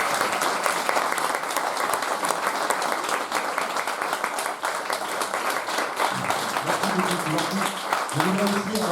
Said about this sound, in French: un tonnerre d'applaudissements pour notre pianiste adoré, Marjolaine